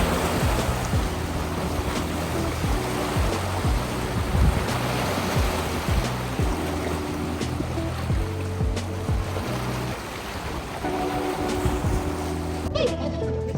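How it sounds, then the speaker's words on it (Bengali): Water waves wash and churn continuously on the shore at Toronto Island, a broad rushing wave sound with a low engine-like hum running beneath it. "পানির এই ঢেউটা"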